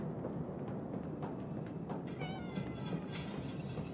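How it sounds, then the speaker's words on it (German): A cat meows in a cellar in the horror game Conarium, a few faint, drawn-out mewing calls over a low hum of ambient noise. "Ja, ist ja gut, kleine Katze."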